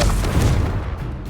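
Confringo spell blast in Hogwarts Legacy: one loud, close, booming burst that fills the moment and fades quickly.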